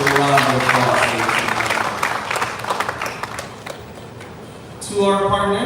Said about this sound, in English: So give all of you a round of applause.